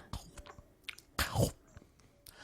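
A man imitates kissing noises with his mouth, making a few brief close smacking and wet gulping sounds, one longer slurping burst in the middle, with soft breaths between.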